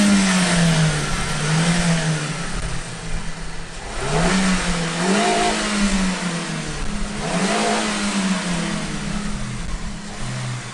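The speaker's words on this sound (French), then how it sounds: "Avec cet échappement réalisé entièrement en titane, le moteur a une sonorité accrue." A loud Renault Modus engine revs repeatedly, its pitch climbing and dropping in sweeping waves with a raspy, resonant note from an all-titanium exhaust, close and continuous.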